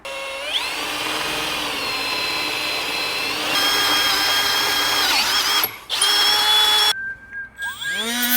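A power drill bores mounting holes for a garage-built air ride suspension on a Chevy, running at a steady loud whine with a pitch shift midway, then stopping and restarting in short bursts near the end.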